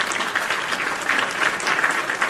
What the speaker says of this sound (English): Round of applause for the PWT universe.